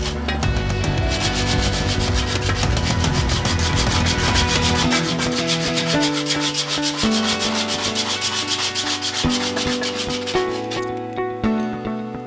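Rasping or filing steel stock for a homemade barbell, a steady scraping texture running loud and continuous for the whole stretch, with rhythmic strokes and no talking.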